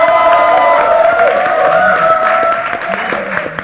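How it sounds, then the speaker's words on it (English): At the Silence 2 trailer launch, a crowd applauds and cheers for cast members including Manoj Bajpayee and Prachi Desai: loud, busy clapping with scattered cheers over steady tonal music playing through the venue. "a huge round of applause for them"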